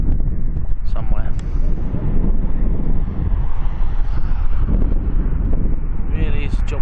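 Strong wind buffets the microphone outdoors on a Turkish wetland in winter, a loud continuous low rumble with gusty swells that persists throughout, with faint voices partly buried beneath it.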